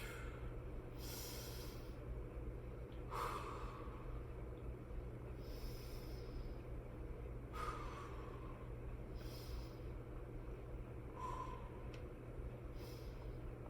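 Slow, deep breathing during a floor stretching exercise, several soft drawn-out breaths spaced a few seconds apart with snort-like exhales, faint and close over a steady low background hum.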